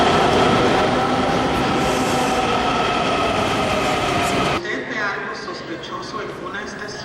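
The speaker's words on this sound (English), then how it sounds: "when the train's approaching, you get the flashing lights here" Metro train moving through an underground station, a loud dense roar with metallic wheel squeal and clatter that drops away sharply partway through, leaving a quieter rumble and faint voices.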